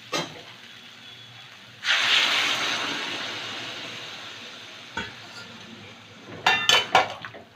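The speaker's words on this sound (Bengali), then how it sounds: "এবার গরম জল দিয়ে দেবো।" Hot water is poured into a pan of cooking kohlrabi curry, producing a sudden loud hiss and bubbling that slowly fades, followed later by a few clanks of utensils against the pan.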